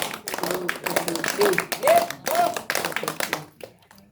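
Village children clapping with their hands raised overhead, a run of sharp, rhythmic claps in quick bursts, with a voice speaking through and a short pause near the end.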